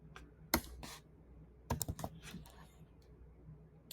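Scattered keystrokes clatter on a computer keyboard, a few sharp isolated taps followed by a quick burst of typing, close and fairly quiet.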